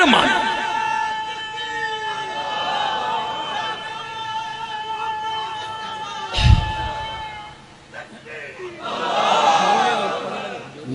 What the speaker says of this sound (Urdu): نعرے دا مزہ تا آیا